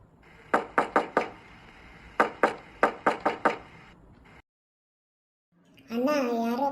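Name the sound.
knocking on a door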